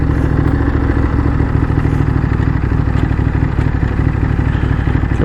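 Ducati Desert X motorcycle engine running loud and close at low revs, a steady rumbling idle with mechanical clatter while the rider works the gearbox toward neutral.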